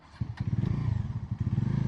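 A Bajaj Dominar 350 motorcycle engine in sport mode revs and accelerates up close, a rapid pulsing throttle that dips briefly and then surges again.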